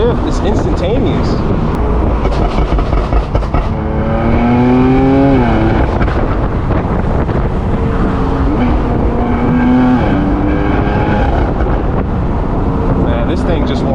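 Loud exhaust roar from a 1000 hp BMW M4 F83 convertible pulling hard, the engine note climbing in long sweeps between quick shifts, close and constant with wind noise and a voice talking over it.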